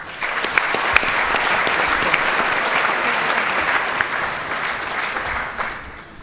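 Loud, sustained applause fills the hall for the winners at an awards ceremony for excellence, with many hands clapping at once, dense and unbroken, and a few sharper individual claps standing out near the front.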